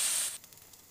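Chopped tomato dropped into hot oil with frying onion, ginger and garlic paste for a village-style spicy crab and potato curry: a loud, bright sizzling hiss that drops sharply after a moment and settles into a quieter crackle.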